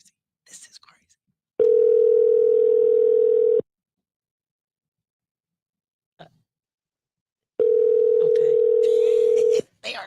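Two long, steady electronic phone ring tones, each lasting about two seconds, separated by a quiet pause, heard as if through a handset.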